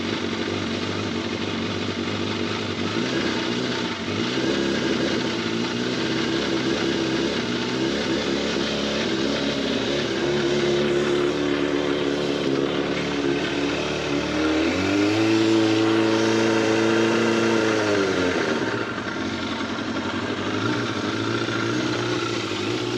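A dusty, long-neglected engine idles steadily after a cold start, loud and close. It rises briefly into a revving surge partway through, then settles back to idle.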